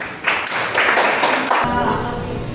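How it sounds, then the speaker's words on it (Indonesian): A group claps hands in a brief burst of rapid, overlapping claps, loud and close, which stops abruptly partway through. "setelah kata Imam, saya kasih tepuk tangan dulu."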